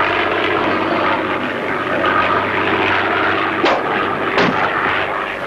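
Propeller airplane engine droning steadily in flight in a Tintin cartoon, a loud continuous roar that holds for the whole stretch, with a couple of brief swells near the end and no voices.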